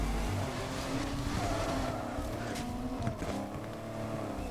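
Porsche 718 Cayman GTS engine in Need for Speed, droning steadily and loudly with shifting pitch as the car fails to spin donuts, heard alone without voices.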